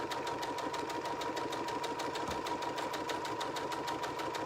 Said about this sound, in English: because you're just sewing a straight seam, you're using your foot as your guide